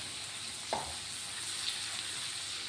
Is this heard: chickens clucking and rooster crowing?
no